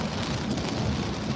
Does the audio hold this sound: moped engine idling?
no